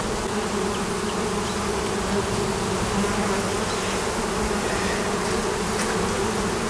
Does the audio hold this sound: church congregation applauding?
no